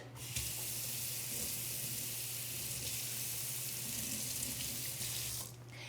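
Steady water runs from a kitchen tap into a sink for several seconds as something is rinsed off after mixing cake batter, loud and continuous until it cuts off near the end.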